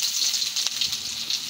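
Cumin seeds sizzling in hot oil in a pan, a steady bright frying hiss with fine crackles running continuously and fairly close, no voices.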